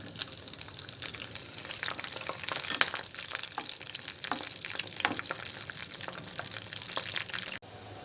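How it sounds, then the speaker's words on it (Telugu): Green chillies fry in hot oil in a pan, giving a steady soft sizzle with scattered crackles and pops throughout, fairly quiet and close. "ఆయిల్ వేడైన తర్వాత పచ్చిమిరపకాయల్ని ఫ్రై చేసుకోవాలి."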